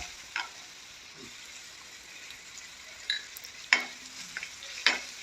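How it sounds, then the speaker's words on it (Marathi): Chopped onion with a pinch of salt sautéing in a pan for millet upma, a soft steady sizzle broken by a few sharp stirring scrapes and clinks. "कांदा परतून घेते आहे"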